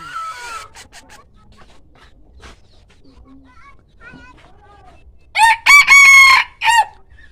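A rooster crows loudly and close, a strong cock-a-doodle-doo near the end after a stretch of faint scattered clucks and quiet background sounds.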